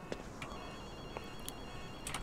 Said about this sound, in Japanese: 電話鳴ってるぞ。